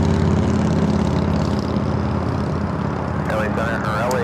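A jet airliner at LAX holds a steady, loud low engine roar throughout, with people talking over it near the end.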